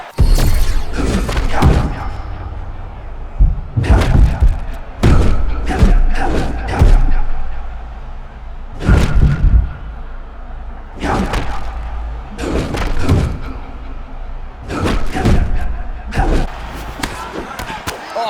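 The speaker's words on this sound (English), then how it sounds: "Oh man, looks like he ate another body shot there." Punches and body shots in a UFC 6 fighting game land as loud, heavy thuds in rapid bursts separated by short pauses, with faint crowd noise behind them.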